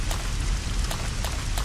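Steady rain in the Resident Evil Code: Veronica X video game, a dense, even hiss of falling drops with occasional brighter spatters, continuous and fairly loud throughout.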